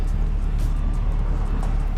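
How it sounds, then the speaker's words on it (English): A car reverses slowly into a parking spot, its engine giving a steady low rumble that stays close throughout. "I'm trying to back the car in, Scoob."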